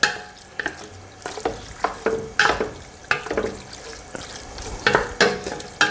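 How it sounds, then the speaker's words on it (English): Tripe in a heating pan is stirred to mix in salt, giving a series of loud wet scrapes and clanks in an uneven rhythm with a soft sizzle underneath, with no talking. "mix it around just to mix that salt all over"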